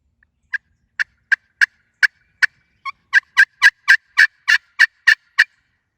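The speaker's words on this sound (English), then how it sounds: "he started gobbling over here" A wild turkey calls in the open with a long series of quick, evenly spaced notes that grow louder and denser toward the end, carrying clearly over otherwise quiet surroundings.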